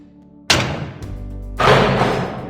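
Muvizu animation software door sound effect: two heavy slams or thuds, the second louder and followed by a lingering rumble, alone without talk.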